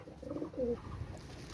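A Ferozpuri pigeon hen coos close by, giving two soft throaty coos in quick succession against a quiet background. No one talks.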